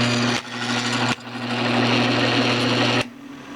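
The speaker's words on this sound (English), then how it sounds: "Now we're drilling our center hole for the vent" A power drill bores a center hole through a stack of metal plates for a mini wood stove vent, giving a steady, loud, harsh whir with brief dips in pitch where the bit catches or pauses.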